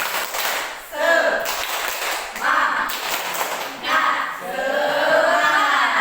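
A classroom of Grade 7 students claps a rhythmic spirit clap in sharp group bursts separated by short pauses. Voices of the class join in between and over the claps.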